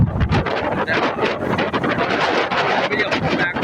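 Strong typhoon wind on Bantayan Island in the Philippines, with continuous loud gusting and microphone buffeting, close and rough, and a voice speaking partly underneath.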